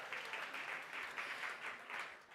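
Applause from a gala fundraiser audience for donors announced on stage, a soft, steady patter of clapping lasting a couple of seconds.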